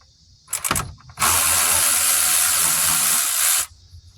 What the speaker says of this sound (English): we'll pull our two bolts out to hold our shroud on